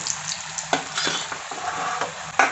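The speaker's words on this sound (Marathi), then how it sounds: "तेल तापलेलं आहे. याच्यामध्ये आपण एक एक नगेट्स टाकून घेऊयात." Chapati nuggets made from leftover flatbread dropped one by one into hot oil, sizzling steadily with a few soft clinks and stirring knocks of utensils against the pan, close and alone without talk.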